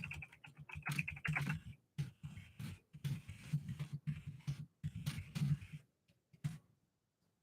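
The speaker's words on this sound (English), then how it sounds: "I'll type that in the comments here." Typing on a computer keyboard during a live stream: close, rapid key clicks in irregular bursts that slow and stop near the end.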